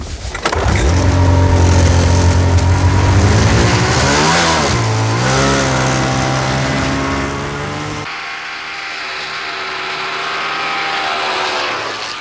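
Snowmobile engine in Arctic Alaska revving loudly up close, rising and falling in pitch before settling into a steady drone as it moves off.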